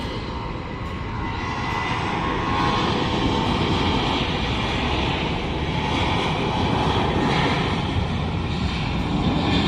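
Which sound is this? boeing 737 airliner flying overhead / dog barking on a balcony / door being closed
boeing 737 airliner flying overhead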